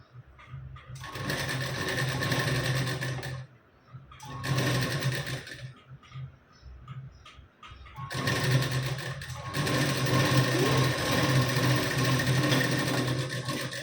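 A sewing machine stitches the neckline of a lehenga blouse in three runs of fast, buzzing whir separated by short pauses, close and fairly loud with no talking.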